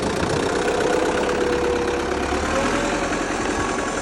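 A 2010 MTZ 892.1 tractor's diesel engine runs at a steady idle, a loud, close, continuous rumble with a slight knocking texture and no talk over it.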